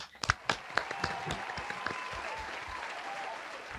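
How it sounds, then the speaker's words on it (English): Studio applause for Lee during a talk show, starting with a few loud, scattered claps up close and swelling into a steady wash of clapping from a small group, with no voices over it. "Let's clap for Lee too"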